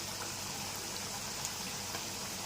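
Liver pieces simmering in a pot of gravy, a steady soft bubbling hiss that stays faint and even, with no voices.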